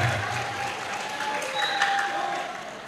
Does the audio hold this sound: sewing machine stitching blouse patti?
no